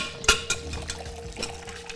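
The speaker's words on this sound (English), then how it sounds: "Let's give that a pour." Homemade lime cordial is poured into a small glass for a classic gimlet cocktail: a brief splashing pour with a light clink of glass, close and clear.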